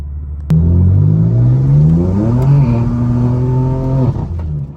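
A BMW M car with the S55 engine revs hard while driving, its loud exhaust note climbing steadily in pitch through a long pull, then dropping off near the end, close and continuous with no talk.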